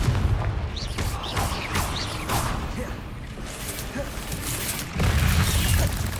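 Confringo spell blasts in Hogwarts Legacy, fired during a fight with spiders: a string of loud booming, cracking explosions with whooshes, close and forceful, one right after another.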